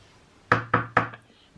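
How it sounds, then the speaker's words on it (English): Three quick, firm knocks on a house door, close and loud with a hollow wooden thump, followed by a faint tap and then quiet, with no talk. "Peter knocked on the door"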